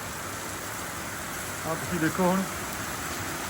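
Heavy rain falls outdoors by a rural home, a steady background hiss of drops that continues under a man's brief spoken words in the middle.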